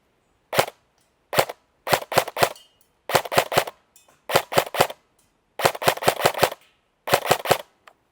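A Double Eagle UTR airsoft SMG fires 0.25 BBs at close targets in loud, sharp bursts of two to five rapid cracks, separated by short silent pauses, with no talking.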